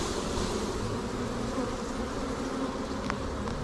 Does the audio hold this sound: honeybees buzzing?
yes